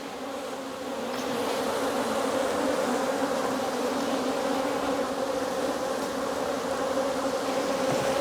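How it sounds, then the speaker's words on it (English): Honey bees buzzing around an open hive during an inspection, a dense, continuous swarm hum that swells slightly and stays steady, close by with no talk. "there's a lot of bees"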